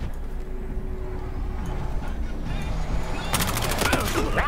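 Video game gunfire in the Battlefield Hardline beta: low rumbling game ambience, then a dense, loud volley of shots bursts out near the end.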